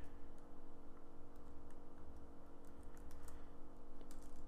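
Steady keystrokes on a computer keyboard while building a Word document from Excel, quick irregular clicks running continuously at close range with no voices.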